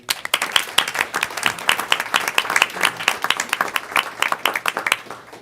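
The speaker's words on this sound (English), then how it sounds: "One more round of applause." Attendees at a school district board meeting applaud after a recognition, with close, uneven clapping that rises and falls for about five seconds in a room, no speech over it.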